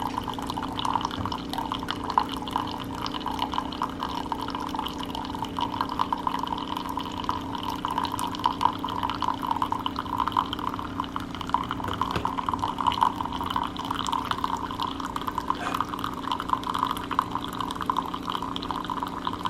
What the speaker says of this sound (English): That is a beautiful sound. Coffee brewing.